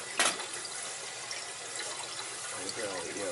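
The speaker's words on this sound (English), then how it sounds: "You can hear all the air in the system." Air gurgling and hissing through the water pipes of a gas boiler heating system, a steady watery rush with a brief louder burst near the start, heard up close.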